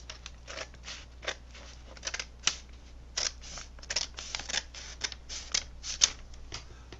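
Scissors snip through a paper 7-inch record sleeve, a quick series of crisp, close cutting clicks in an uneven rhythm against a quiet background.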